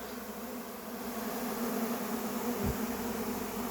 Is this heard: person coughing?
no